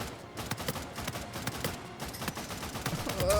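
I.N.S.A.S rifle fire in an Uncharted 4 multiplayer match: a dense run of rapid, punchy shots crackling in quick bursts, moderately loud against busy game ambience.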